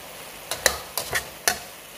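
Minced meat with masala being fried and stirred in a handi, a soft background sizzle broken by several sharp scraping clinks of the spoon against the pot, irregularly spaced and close.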